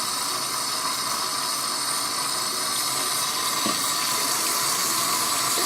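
Strong stream of tap water running steadily over hair extensions in a tray during a rinse, a loud continuous close hiss with no talk.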